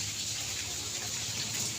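Water pumped by a motor into a backyard swimming pool on a drizzly day, a steady, even rushing and gushing of water with a faint underlying hum and no talk.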